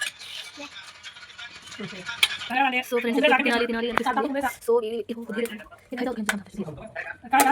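Plates and cutlery clink and rattle as bagara rice and mutton curry are served, scattered close clatters mixed under continuous talking.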